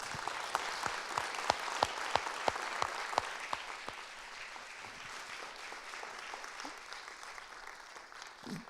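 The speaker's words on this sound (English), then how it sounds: "Let's give him a round of applause." A lecture audience applauds speaker Justin Giboney, sharp distinct claps up front settling into a softer, steady wash of applause from a moderate-sized crowd, with little talk.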